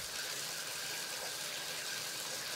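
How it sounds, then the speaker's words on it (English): Water runs from a bath tap into a bathtub in a soft, continuous hissing gush that stays fairly quiet and even throughout. "The bath tap turns and the water comes out of the tap and runs into the bath."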